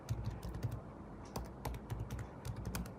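A computer keyboard is typed on, producing quiet, close, irregular clicky keystrokes in short bursts with brief pauses between them, and no speech.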